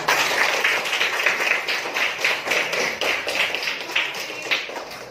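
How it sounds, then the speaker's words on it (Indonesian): A classroom of students claps together at a teacher's prompt, a dense, steady patter of many hands that keeps up for several seconds without letting up. "Oke, tepuk tangan dulu untuk kita semua."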